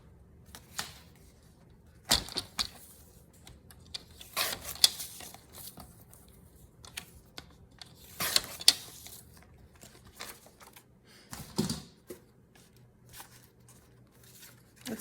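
Scissors cutting a paper image down for a vintage boho junk journal, with sparse close snips, rustles and crinkles of paper at irregular intervals, fairly quiet.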